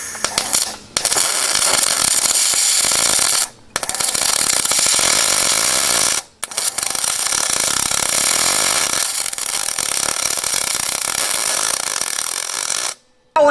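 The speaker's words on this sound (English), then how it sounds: "now I am ready to do my last weld from inside and from outside too" Aluminum bumper extension being welded onto a ProMaster van: a loud, steady crackling buzz runs in long stretches broken by three short pauses, with no talking.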